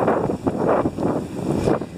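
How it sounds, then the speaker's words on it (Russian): Wind gusting on a Florida beach, buffeting the microphone in rough surges of low rumble that rise and fall across two seconds, loud and close. "Вот я вам и сказала, ветер, приятный ветер."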